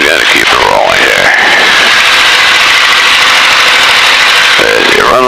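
A Luscombe light airplane's engine runs loud and steady at idle during an early-morning departure, a constant close drone with a brief pitch sweep near the start and end.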